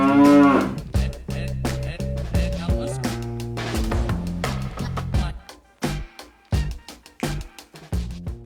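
Cows mooing outdoors in the morning near a camped truck-bed tiny house by Valley of Fire, several loud, drawn-out moos in an irregular series, close by, with shorter calls and pauses between them.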